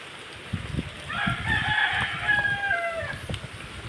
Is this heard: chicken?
yes